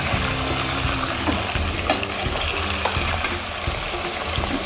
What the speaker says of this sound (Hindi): तो लहसुन डाल के चला देंगे। तेज ही आंच में हमने किया था, तेज आंच में इसको भी फ्राई करेंगे।